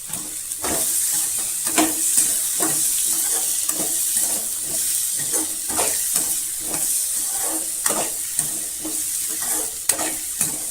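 Tomato sautéing in a pan for a spicy radish chutney, a loud close sizzle broken by repeated spatula stirs and scrapes at a fairly regular rhythm, with no talking.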